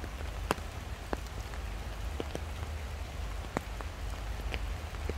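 Steady rain falls through a forest, a dense close hiss with scattered sharp drops striking leaves and surfaces, continuous and alone without voices.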